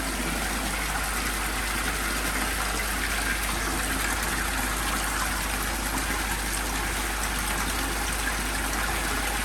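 A 20,000 litre water pump running at about half speed, a constant loud broadband rush of flowing water over a steady low mains hum, unchanging throughout.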